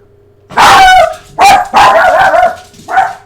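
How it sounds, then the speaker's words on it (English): A real household dog barks in several loud, close bursts, one long sharp run of barks followed by two more clusters and a short final yap, with no talking. "It makes me so much more jumpy whenever my dog starts barking when there's literally no music"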